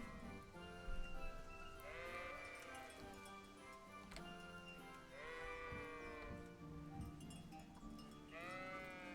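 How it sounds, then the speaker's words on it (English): Sheep bleat repeatedly in the medieval game Kingdom Come: Deliverance, several wavering calls recurring every few seconds over a steady bed of game ambience, fairly clear and close. "We're at the sheep."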